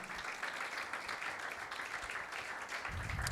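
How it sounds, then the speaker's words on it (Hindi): A church congregation at a Sunday meeting applauds, a dense, even wash of many hands clapping heard from within the room and lasting throughout. "यीशु के लिए तालियां बजाएं जिसने आपकी आवाज को सुना है।"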